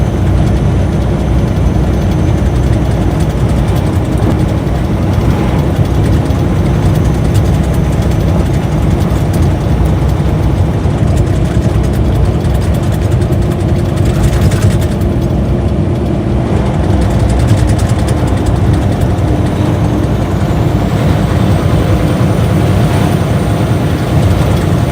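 Cummins diesel engine idling in a Peterbilt truck: a steady, loud low rumble that holds evenly for the whole stretch with no talking over it.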